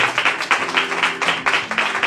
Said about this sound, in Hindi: मैं तो परमेश्वर को जोरदार तालियां बजाए।